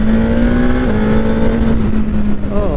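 A 2021 Suzuki GSX-S1000 motorcycle pulls hard in second gear, its engine note climbing steadily in a loud, close, rising whine over wind rush.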